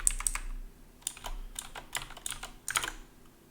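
Someone types Python code on a computer keyboard: several short bursts of crisp key clicks with brief pauses between them, close and quiet, with no voices.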